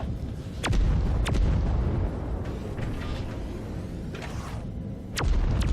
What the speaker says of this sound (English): And look at the gunfire.